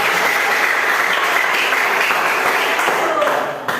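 Dense, loud applause fills a school gathering at a vocational high school, a continuous wash of clapping hands that holds steady before dropping off sharply at the very end.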